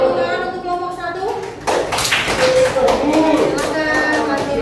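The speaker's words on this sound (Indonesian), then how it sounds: "Beri tepuk tangan untuk kelompok 1." Students in a classroom break into applause for a student group, a burst of many hands clapping that rises after a moment and continues alongside children's voices.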